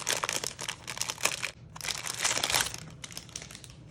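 Crinkly plastic embellishment bag from a card-making kit handled up close, two bursts of loud crackling and rustling with a short pause between them, no talking.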